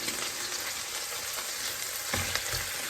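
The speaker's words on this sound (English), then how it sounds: "they'll cook down some. We're going to let these cook" White mushrooms, rinsed and dried, cooking in a pan for beef stroganoff: an even, dense frying hiss fills the clip, with a couple of dull low thumps near the end.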